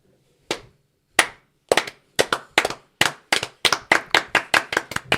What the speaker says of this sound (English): as Johnson starts his run-up, clapping and cheers build from the crowd